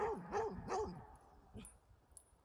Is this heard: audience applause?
no